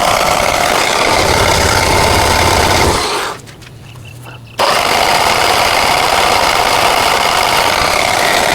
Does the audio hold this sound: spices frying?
no